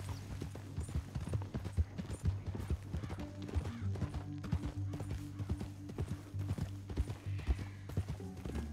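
Steady clip-clop of horse hooves trotting in a quick, regular rhythm over a low mechanical hum, with no voices, in the video game Red Dead Redemption 2.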